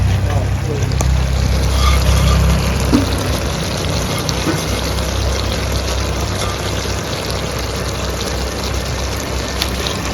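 Fried puti fish go into a simmering shapla curry, bringing a loud, continuous bubbling and watery rush with a heavier low rumble at the start, which then settles into a steady, dense simmer.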